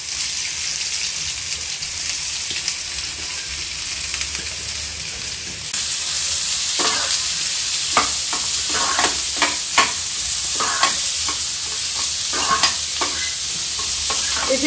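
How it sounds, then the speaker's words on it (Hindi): Onions frying in about a tablespoon of oil for Hyderabadi mutton mahi khalya make a continuous loud sizzle; partway through, repeated scraping stirs of a spatula join in, with no speech. "अब मैं इसमें ऑनियन फ्राई करूंगी।"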